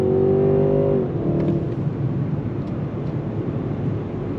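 A 2022 Mercedes-Benz S580 accelerates with quick gear shifts. A rising engine tone cuts off at a shift after about a second, then gives way to steady road and cabin rumble heard from inside.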